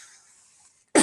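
A single sharp cough bursts out loud and close at the very end, after near silence with faint hiss.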